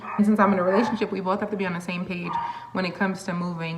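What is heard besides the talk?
chihuahua dog barking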